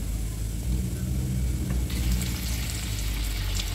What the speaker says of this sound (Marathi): वरती कढईमध्ये तेल गरम करायला ठेवलेले। आता हे तेल चांगलं गरम झालं की ह्याच्यात मी हे सोडणार आहे